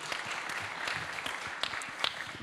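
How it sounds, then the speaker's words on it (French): Applause at a business conference, a fairly soft, steady patter of many hands clapping with a few sharper individual claps standing out, continuing throughout. "Magnifique, ça s'applaudit aussi"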